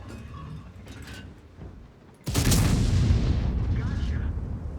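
A tank gun firing in World of Tanks, one sudden heavy boom that rolls into a long loud rumbling decay, following quieter game ambience with a voice talking.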